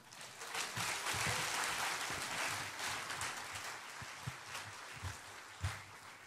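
Applause from a church congregation during a Sunday service as a speaker comes forward, a broad steady clatter of clapping with a few sharper individual claps standing out near the end.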